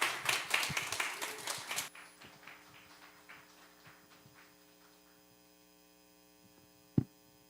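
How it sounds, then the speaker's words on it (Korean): A church congregation at a Sunday service clapping to welcome the preacher, a burst of dense applause that thins into scattered claps and fades over steady mains hum, ending with a single loud thump. "우리 박수하고 모시도록 하겠습니다."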